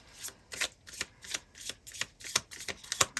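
A deck of tarot cards being shuffled by hand, close and quiet, in a steady series of crisp riffling bursts with short pauses between them and no voices.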